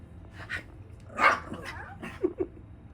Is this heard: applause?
no